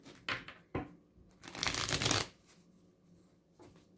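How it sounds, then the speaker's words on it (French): Playing cards being shuffled close up in a quiet room, a few short riffling bursts followed by a longer, louder riffle, with no talking. "Je vais mélanger les cartes."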